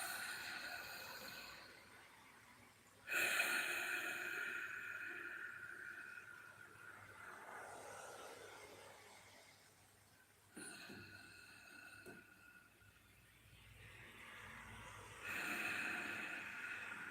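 Deep meditative breaths drawn in and pushed out through the nose, slow and close, each long airy exhale and inhale starting with a sharp nasal rush, repeating several times.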